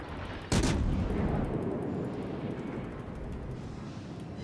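A cruiser's main guns fire in World of Warships, one sharp, loud broadband blast near the start followed by a long rumbling low boom and sustained battle noise.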